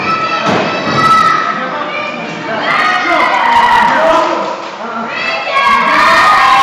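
A wrestling crowd roars and shouts in support of the wrestler Rican Havoc, loud and close, with overlapping voices and cheers that swell and dip in waves alongside a few thuds.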